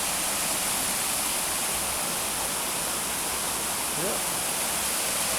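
White water rushes loudly beside a waterfall, a dense, steady roar filling the whole clip without pause, with a brief spoken word barely rising above it.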